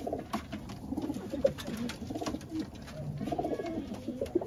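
An old red Rajshahi pilong pigeon and nearby birds coo in low, repeated rolling phrases, soft and close, with a faint murmur of background activity.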